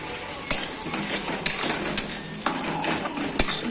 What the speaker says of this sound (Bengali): দিয়ে নাড়াচাড়া করে মশলাটা একটু কষিয়ে নেব